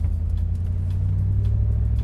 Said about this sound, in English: it sounds like a bigger engine than a 351